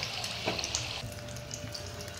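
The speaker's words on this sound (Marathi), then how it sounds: "दोन्ही बाजू व्यवस्थित तळून घ्यायचे" Wheat pocket rolls shallow-frying in oil, a steady, close sizzle with faint crackles and bubbling, and no talking.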